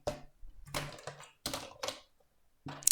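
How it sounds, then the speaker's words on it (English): An eraser rubs on paper during technical drawing, sounding as several short scratchy bursts separated by brief pauses, close and fairly quiet. "So I'm just going to erase a bit."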